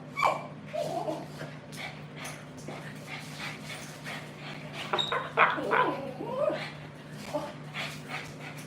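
Dog whimpering with a few short barks and yips, close by in a room, over a steady low hum; intermittent and restless throughout.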